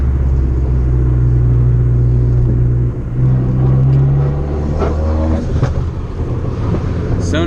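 A turbocharged widebody car's engine roars with a deep exhaust rumble under load, loud and close, dipping briefly midway before building again, with a voice talking over it.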